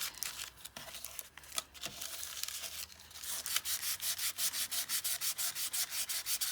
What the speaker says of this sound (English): You don't want to apply hard pressure, you just want to sand.